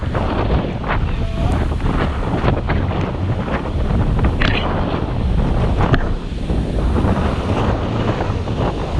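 Steady wind buffeting the microphone with a broad rushing wash of surf on an exposed northern sea shore in Indonesia, loud and continuous throughout with no talking.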